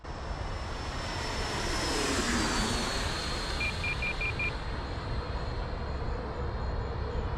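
Freewing T-45 Goshawk 90mm RC jet flying, a steady roaring ducted-fan whine that swells and fades as it passes, with a short run of faint electronic beeps partway through.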